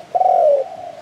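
Spotted dove giving a single clear, close coo, a smooth drawn-out note lasting about half a second before falling quiet.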